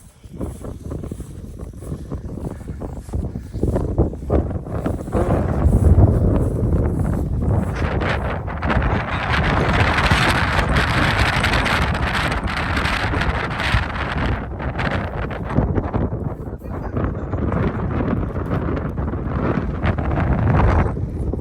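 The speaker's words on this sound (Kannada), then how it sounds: "ಗಾಳಿ ಯಾವ ಲೆವೆಲ್ ಇದೆ ನೋಡಿ" Strong wind on the Nelji hilltop during a trek, roaring and buffeting the microphone in loud, continuous gusts that swell and ease over about twenty seconds with no talk.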